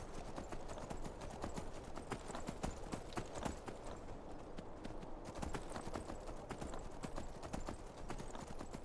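Horse hooves gallop steadily in the video game Skyrim, a fast, even clip-clop close by that continues throughout, with no talking.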